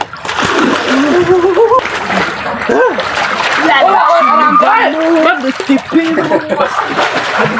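Water splashes and sloshes in a tubewell tank where people are bathing, loud and close, with excited voices and shouting throughout.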